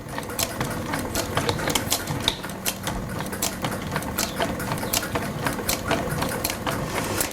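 A sewing machine runs steadily as it stitches a line of thread, a fast, even mechanical whirr with ticking needle clicks, close and continuous with no talk.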